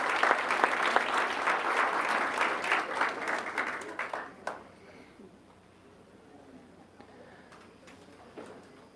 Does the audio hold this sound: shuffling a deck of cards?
no